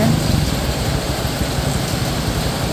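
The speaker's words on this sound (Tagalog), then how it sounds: "Bigla pong lakas ng ulan." Heavy rain pours down steadily in Abyawin, a dense, unbroken wash of noise at close range that holds constant throughout, with no voices over it.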